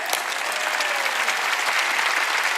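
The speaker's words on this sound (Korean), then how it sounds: "빨리 박수 쳐. 세게 쳐." A church congregation claps hands hard and fast during a sermon, a dense even burst of loud applause filling the room throughout, with no speech over it.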